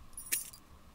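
A key jangles with a short, bright metallic rattle as it is picked up in the horror game I'm Scared, a single crisp burst over near silence.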